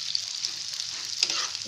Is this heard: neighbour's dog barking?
no